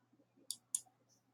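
Two sharp, close computer mouse clicks about a quarter second apart, quiet and isolated, as anchor points are set while drawing a lasso selection around an animation cel outline.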